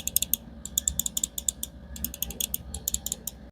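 An EWEADN S9 Ultra gaming mouse's buttons are clicked repeatedly in quick bursts, giving crisp, close, light clicks in irregular clusters over faint background hum.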